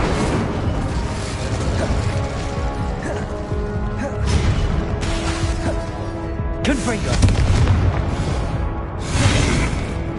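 Spell blasts and explosions in Hogwarts Legacy: repeated whooshing bursts, crashes and booming impacts over a continuous game soundscape, with several louder hits spaced through the fight.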